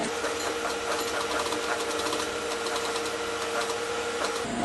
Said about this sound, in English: Now we're doing the second top stitching.